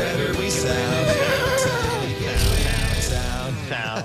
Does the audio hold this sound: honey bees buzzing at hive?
no